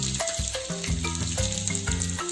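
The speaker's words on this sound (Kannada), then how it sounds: "ಈ ರೀತಿ ಎಣ್ಣೆಲಿ ಚೆನ್ನಾಗಿ ಫ್ರೈ ಆದರೆ ತುಂಬಾ ಚೆನ್ನಾಗಿರುತ್ತೆ ಹಸಿಮೆಣಸು" Green chillies fry in hot oil for a tempering, giving a steady, soft sizzle. A tonal melody plays over it the whole time.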